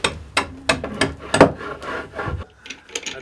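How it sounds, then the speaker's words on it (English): A tool is rubbed against a rough sandpaper-like stone in a traditional Galilee village setting, producing close, scratchy grinding strokes in a steady repeating rhythm with a hard knock in the middle. "And he uses a smooth volcanic stone to sharpen his tools. And he uses a rough stone"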